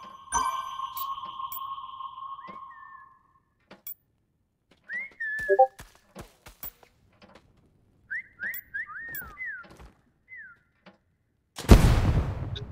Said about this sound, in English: Whistling away.